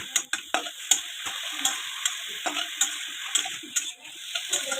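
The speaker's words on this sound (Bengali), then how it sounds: "আমি এখন ভালো করে লেড়ে ছেড়ে এটাকে ভেজে নেব" Bottle gourd greens are stirred and fried in a pan, with repeated spatula scrapes and clicks over a light, thin sizzle, close and uneven in rhythm, without talking.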